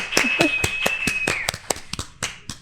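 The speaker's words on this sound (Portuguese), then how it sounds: "Uma salva de palmas, minha gente." Sharp, loud individual hand claps ring out at an autism seminar podcast recording in Araçatuba, spaced in an uneven rhythm, with a thin whistle-like tone briefly sounding underneath.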